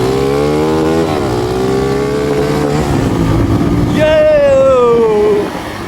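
Aroma Z200 motorcycle riding in fourth gear, its engine hum steady and close throughout, with a rising whine near the end under continuous talking.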